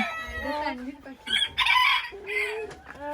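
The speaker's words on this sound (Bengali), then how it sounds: "এখানে রয়েছে রোজ কম মুরগি" A rose comb rooster crows nearby with a long, rising-and-falling cock-a-doodle-doo, loud and clear, followed by a shorter call.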